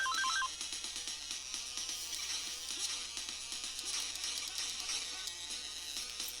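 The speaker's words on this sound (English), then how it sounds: "Stop ringing the phone, damn it." A phone ringing during a session of retro NES and mobile gaming, its electronic ring tone repeating in short rhythmic bursts over game music and noise at a moderate, steady level.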